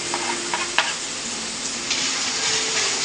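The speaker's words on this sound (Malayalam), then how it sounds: "ഇതിങ്ങനെ വഴറ്റി വഴറ്റിയെടുത്താൽ മതി" Capsicum and onion sauté in hot oil for a Kerala-style chicken curry, giving a steady loud sizzle broken by a few clinks and scrapes of a stirring spoon, close and continuous with no talking.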